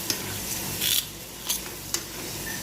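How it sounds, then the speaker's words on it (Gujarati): Curry leaves and potato pieces sizzling in hot oil in a home kitchen while poha is being cooked; a soft, continuous fry with a few sharp stirring scrapes and clinks against the pan. "જો તેલમાં લીમડો નાખી દીધો છે. હવે નાખે છે બટેટા."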